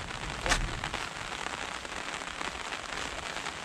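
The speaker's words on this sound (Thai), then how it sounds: "ฝนตกพอดี" Steady rain patters on the ground and leaves at a rural Thai banana plantation, a dense continuous hiss with one brief louder burst near the start, no voices.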